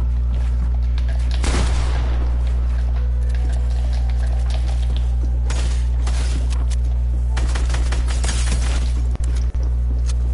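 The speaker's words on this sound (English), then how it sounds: "He's shooting the other guy." Bursts of gunfire in the video game Fortnite, clustered volleys around a steady low game hum, with a loud flurry early and another near the end.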